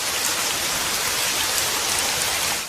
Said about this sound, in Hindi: ये बारिश हमें बुलावे का संकेत दे रही है।